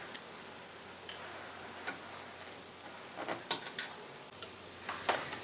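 Small screws are driven back into a Nintendo NES console, giving faint, scattered ticks and light clicks at close range, a few grouped together near the end, over a quiet background.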